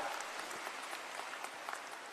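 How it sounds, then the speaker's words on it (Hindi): Crowd applause at a political rally in Bihar, a steady dense patter of many hands clapping at moderate level throughout. "अगर बुझाता तो ताली जोर से बजता।"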